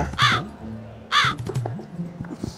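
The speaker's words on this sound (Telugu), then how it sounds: "అమృత గడియల్లో అప్డేట్ ఇద్దామంటే ఏమిరా కాకిగోల." Crows caw close by in two loud, harsh bursts about a second apart, with fainter bird calls and scattered background noise between them.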